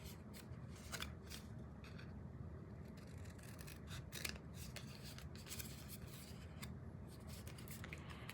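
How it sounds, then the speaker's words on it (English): Scissors cut paper for a handmade Christmas mini book, giving soft, quiet snips and scraping strokes that repeat steadily throughout with no talking. "I'm a terrible cutter when it comes to trying to cut straight."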